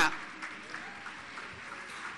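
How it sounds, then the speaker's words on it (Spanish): A church congregation applauds the Lord during a Spanish sermon, soft scattered clapping at a moderate distance with a faint murmur of voices. "Aplaude al Señor, hermano."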